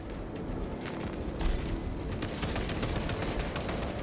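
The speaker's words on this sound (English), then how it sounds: "what are they shooting at now?" Rapid gunfire crackles in the Warhammer 40000: Space Marine 2 video game, a dense run of sharp bursts and shots over a rumbling battle background, steady and moderately loud.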